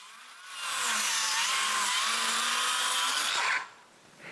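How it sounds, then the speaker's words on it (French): Power saw cutting a 4x4 wood post at a 45-degree angle for a cabin shelter: one continuous whining, buzzing cut of about three seconds that starts quickly and stops sharply, close and alone with no talk. "coupe tout le reste des 4x4 qui nous restent en angle de 45 degrés pour me faire des bras de force."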